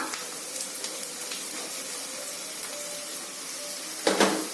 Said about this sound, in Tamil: தக்காளி சேர்த்து ஒரு ரெண்டு நிமிஷம் வதக்கினா போதும்